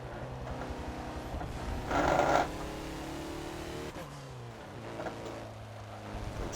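A 2014 Mazda Lola B12/80 race car engine in Forza at Road Atlanta drones steadily while the driver eases off the throttle, with engine pitch shifts and a brief louder burst partway through.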